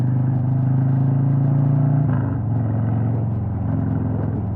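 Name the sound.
Harley Davidson Road King Special motorcycle engine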